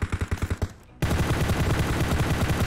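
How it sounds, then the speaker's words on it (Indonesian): Gunfire in the video game PUBG Mobile: a rapid burst of about ten close shots, a brief gap, then dense continuous automatic fire that keeps going to the end. "Saya nembak musuh cuy."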